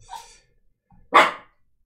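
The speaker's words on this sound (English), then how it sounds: "You're gonna get the cheese, but no more barking." A dog gives two barks, a softer one first and then a louder, closer bark about a second later, with quiet gaps between them.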